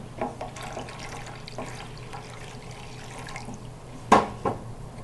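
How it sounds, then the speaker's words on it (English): Cold water poured from a tap to make gelatin for a suspended gelatin brain in a jar, a soft steady running trickle with a couple of louder splashes near the end. "Okay, so then add the cold water."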